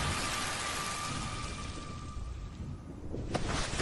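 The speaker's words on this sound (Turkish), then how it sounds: "En azından yağmur kesildi." Rain falls in a Turkish-dubbed action film as a steady, dense, close hiss with no voices, easing slightly near the end before a brief sharper spatter.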